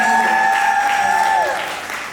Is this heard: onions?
no